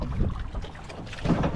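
Strong wind buffets the microphone outdoors on open water, a steady broadband roar with gusts swelling louder toward the end.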